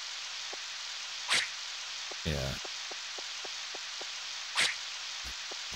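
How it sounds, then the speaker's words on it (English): Steady rain hisses throughout in the video game Harvest Moon 64, with light ticking drops, a few short bursts, and a brief spoken word. "Since it's raining, maybe I can actually catch something."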